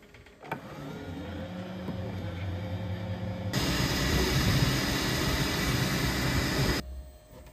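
A Bambu 3D printer running a bookmark print, a steady mechanical whir that swells into a loud, broad fan-like roar for several seconds before dropping back to a quieter hum.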